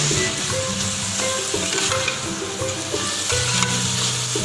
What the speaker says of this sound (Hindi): ये हमारी सारी सब्जियाँ ऐड हो गई हैं। अब मैं इसमें मकरोनी डालूँगी।